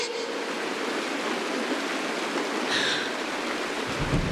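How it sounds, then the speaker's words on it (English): Steady rain pours down in a Honkai: Star Rail game scene, a broad, continuous hiss like a stream, with a brief bright chime near the end and a low thump at the close. "It's raining!"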